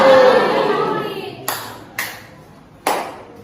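Three crisp hand claps from students in a classroom counting game, unevenly spaced and fairly close, following a stretch of fading voice and room noise.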